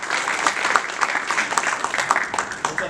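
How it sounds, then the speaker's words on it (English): Conference audience at a startup summit keynote applauding, a steady dense patter of clapping from a crowd filling the room, fairly loud and close, without talk over it. "please give a round of applause for Todd Olsen and Scott Wingo"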